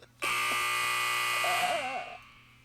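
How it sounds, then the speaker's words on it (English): A loud electronic buzzer sounds once, a harsh sustained buzzing tone that holds for nearly two seconds and then fades out, with no talking over it. "what a buzzer"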